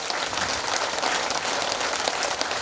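An audience at a seed distribution event for flood-affected farmers claps, giving a dense, steady burst of applause that fills the short moment without any break.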